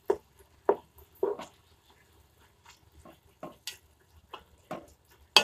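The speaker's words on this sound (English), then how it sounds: "cook it on the stove and cook your tomatoes and your meat" Meat and tomatoes for a Southern Rotel dip cooking in a pan on a stovetop, with a utensil giving a few sharp, separate scraping and clinking strokes over a faint, quiet background.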